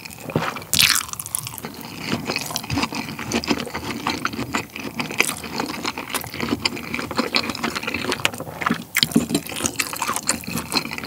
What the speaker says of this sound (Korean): 그러면 얘랑 스파게티랑 같이 먹어보도록 하겠습니다